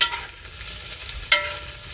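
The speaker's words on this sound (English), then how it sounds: "So I'm just stir frying it right now without any seasoning." Food being stir fried in a pan over an outdoor wood fire, with a soft continuous sizzle and a couple of brief scraping stirs, close and moderately quiet.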